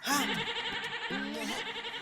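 A lamb bleating near a zoo enclosure, two wavering bleats about a second apart heard over constant background noise and talk.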